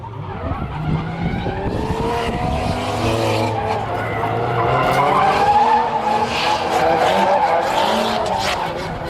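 Two Nissan drift cars slide through a corner at a French drift championship round in Tours, tires squealing and skidding continuously over revving engines, loud and close, with a faint voice in the background.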